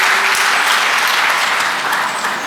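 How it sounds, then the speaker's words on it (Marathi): Loud, steady applause from an audience at a sales meeting, sustained dense clapping that fades slightly toward the end. "एकदा जोरदार टाळ्या टीमसाठी आपल्या."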